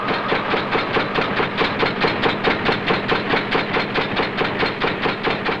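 A Paris express commuter train runs along the line, its wheels beating a steady, rhythmic clickety-clack over the rails amid a continuous rumble, close and even throughout.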